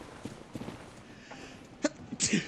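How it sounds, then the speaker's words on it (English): A single sharp sneeze bursts out near the end after a brief intake of breath, close and fairly loud against a quiet background. "I had to sneeze"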